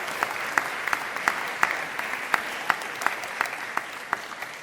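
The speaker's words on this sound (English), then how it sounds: "you deserve a round of applause" Steady applause from a small group, continuous clapping with sharper individual claps standing out, moderately loud and close, no voices.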